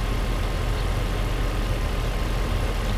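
Metal cooling fan on a 1995 Mercedes SL500 running with the engine on, a steady, loud, broadband whir and low engine rumble throughout, unchanging and without talk.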